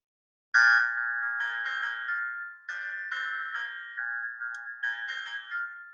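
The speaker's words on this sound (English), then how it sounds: "This is the piano track" A GarageBand piano track plays a light groove of bright, repeating chords and short note runs, clean and moderately quiet, starting abruptly after a half second of silence and running steadily with no voices.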